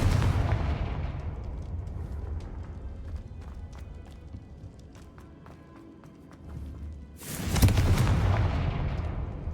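A Confringo explosive spell goes off in Hogwarts Legacy as a sudden loud broadband blast near the end. Duller thumps and rumbling game noise come before it, and a voice calls out the spell.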